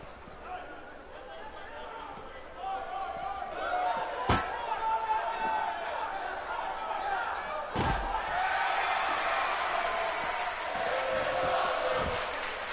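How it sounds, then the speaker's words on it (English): A large wrestling crowd in the WWE 2K18 video game roars and chatters continuously in a big arena, with a couple of sharp slams cutting through the steady cheering. "You can hear the crowd in the background."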